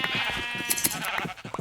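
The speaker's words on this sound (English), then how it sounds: "I'll shear up these sheep for their wool" Sheep bleating in the video game Minecraft, several short wavering bleats in quick succession, fairly close and moderately loud against a quiet game background.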